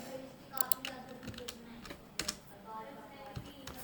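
Keys tapped on a computer keyboard to enter a number, a few quick clicks in short bursts over faint background murmur and room noise.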